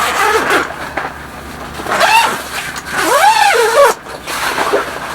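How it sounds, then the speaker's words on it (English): A long zipper on the fabric wall of a camper trailer's awning room is drawn open in several pulls, giving a loud, close rasp that rises and falls in pitch. "Because once we unzip this,"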